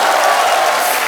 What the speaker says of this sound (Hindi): तालियां आलिया के लिए